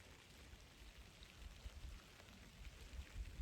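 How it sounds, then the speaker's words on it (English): Steady rain falls outside on a cold day, a soft, even hiss of drops with faint low patter throughout, fairly quiet and without voices. "It's cold and it's raining out."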